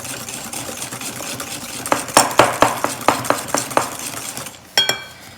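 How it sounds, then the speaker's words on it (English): A spoon whisks an egg mixture rapidly in a bowl as hot milk is added, producing a fast run of sharp clinking taps against the bowl, close and fairly loud, then a brief pause and one final clink. "I'm just gonna stir really fast."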